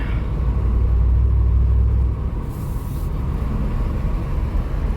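Car with a Holley airfoil fitted to a TPI/LT1 engine, a loud low exhaust rumble building as it accelerates hard, steady and close throughout with no talking.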